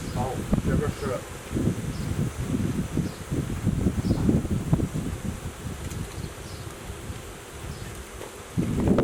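Agitated honeybees buzz around an open hive box while queen cells are checked, a dense steady drone with rustling and handling noises throughout.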